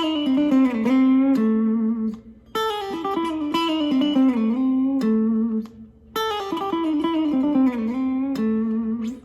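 An electric guitar plays a repeating chromatic blues-rock pentatonic riff in three phrases, with bent notes and sustained tones separated by brief pauses, loud and clear with no talking.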